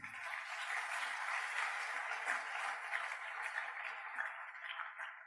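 A church congregation applauding during a Sunday worship service, faint and distant, a steady blur of clapping that continues evenly for several seconds.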